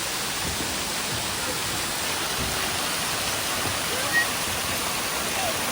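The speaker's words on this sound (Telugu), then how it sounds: "ఇదే వాటర్ ఫాల్" Artificial waterfall at Shilparamam in Hitech City, a steady broadband rush of falling water that stays even and close throughout, with no break or lull.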